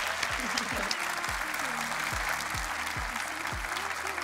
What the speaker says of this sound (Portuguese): Palmas para ela, merece.